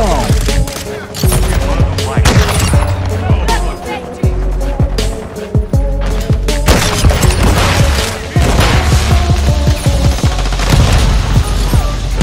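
Gunfire from the video game Call of Duty Modern Warfare II: loud, dense bursts of automatic fire and sharp shots repeat throughout, with booms, under a continuous game soundscape.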